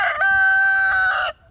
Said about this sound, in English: He's our big rooster.